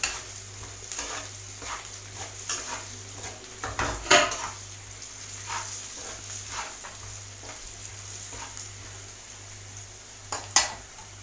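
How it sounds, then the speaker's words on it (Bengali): Onions frying in a pan for a mustard-and-poppy-seed fish curry are stirred with a utensil, giving repeated sharp scrapes and metallic clinks over a soft, continuous sizzle and a low steady hum, with no talking. "পেঁয়াজটা ভাজা মোটামুটি কমপ্লিট হয়ে গেছে"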